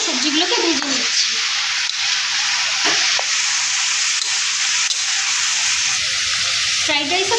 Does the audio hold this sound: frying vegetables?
yes